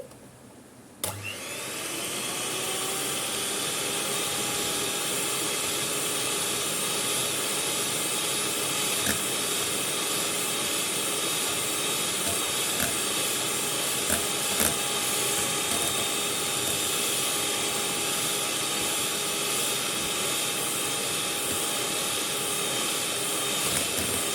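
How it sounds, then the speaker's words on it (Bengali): An electric beater whips a cup of whipping cream, starting with a click and then holding a loud, steady high-pitched motor whir with a faint hiss that continues nearly unchanged. "একটা ইলেকট্রিক বিটার দিয়ে আমি বিট করে নেব একটা বিটার দিয়ে আমি বিট করে নিচ্ছি"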